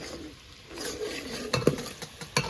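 Onions and spices stirred in a cooking pot, with a soft sizzle and a few sharp clinks and scrapes of a spoon against the metal pot.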